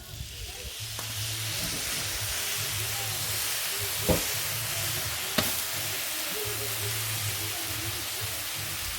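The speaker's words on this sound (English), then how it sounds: "we just want to give this a bit of a sear up on all the sides" Beef eye fillet searing on a Weber kettle charcoal grill outdoors, a steady, even sizzle and hiss running throughout, broken by a couple of brief sharp clicks and a low background rumble.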